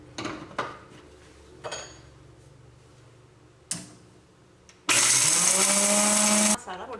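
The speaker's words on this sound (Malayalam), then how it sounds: "ഈ പാൻ ചൂടാകുമ്പോഴേക്ക് നമുക്ക് ഈ മസാലയൊക്കെ ഒന്ന് പൊടിച്ചെടുക്കാം" A mixer grinder grinds whole fennel, cardamom, cinnamon, cloves and mace for biryani masala, starting with a loud, steady whirring burst after some clicks and taps, while a person talks.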